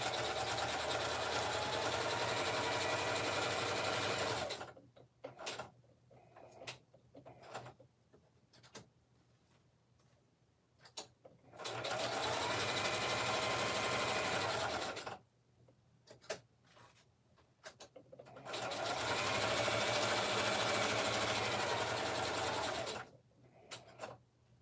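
Sewing machine stitching a zigzag onto a mixed-media card, three loud sustained runs of rapid mechanical whirring, each several seconds long, separated by quieter gaps with small clicks and handling sounds.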